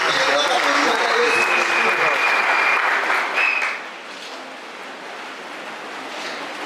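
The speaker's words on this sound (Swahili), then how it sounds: "Yesu makofi na mikono." Loud applause from a crowd at a funeral service fills the first few seconds with voices mixed in, then fades to quiet room noise.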